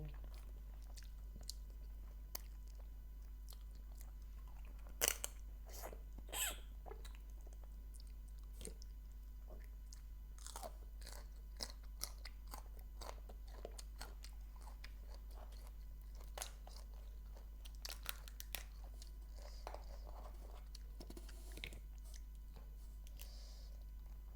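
Someone chews and bites on field crab claws, with scattered sharp crunches and cracks over a faint steady background, the loudest crunch near the start and softer bites following irregularly.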